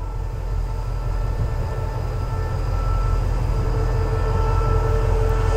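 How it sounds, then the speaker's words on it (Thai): An express train from Ubon Ratchathani arrives at platform 8 of Ban Phachi Junction station in Thailand, a loud continuous low rumble and rolling drone that holds steady throughout, with no voices. "รถเข้าชานชลาที่8นะครับ"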